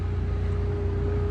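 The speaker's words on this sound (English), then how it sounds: "They got the guide cars, so a lot of racket going by." A low, steady engine drone and road rumble as cars are led past road construction at Stokoe Gap, continuous and fairly loud with a faint tonal hum and no talking.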